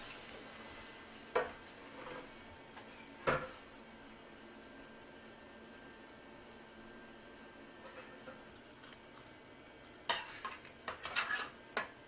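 Mahi mahi being flipped in a pan, with sharp utensil scrapes and clanks against the metal at intervals over a low, steady sizzle, a cluster of quick clatters near the end.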